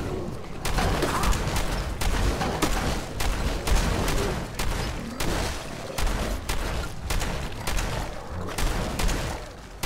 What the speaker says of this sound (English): might be time for a shotgun